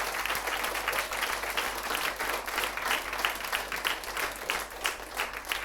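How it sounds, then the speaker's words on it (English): An audience gives a big round of applause for seven speakers at a live event, a sustained, even wash of many hands clapping over a low steady hum, lasting the whole stretch without talk. "So can we give all 7 of them a very big round of applause?"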